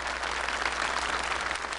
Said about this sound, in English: Another round of applause, please, for our top 5 finalists.